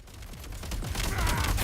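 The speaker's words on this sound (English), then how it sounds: "those damn fucking gunners in the background are fucking me up" Video game gunners fire continuously in the background, a dense, rapid fusillade of overlapping gunshots that builds slightly louder over the short stretch, with no voice on top.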